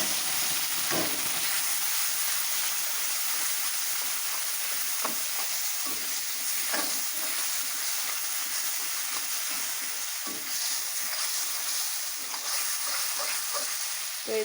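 Spice paste with chopped onion frying in a pan for a small hilsa fish dish, a steady broadband sizzle with scattered crackles and occasional stirring scrapes, continuous and fairly close with no talking.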